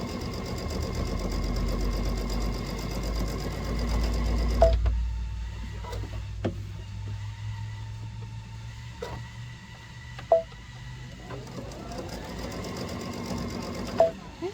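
A sewing machine runs a single straight stitch on a zipper pouch, a steady fast mechanical whir for several seconds, then pauses with clicks and short bursts of stitching, close and moderately loud.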